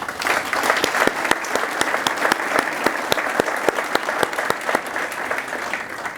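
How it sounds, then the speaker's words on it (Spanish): Applause from an audience at a talk on the life cycle of plastic packaging, a steady dense patter of many hands with sharper individual claps standing out, sustained and fairly close throughout. "Se adelantó el aplauso nomás"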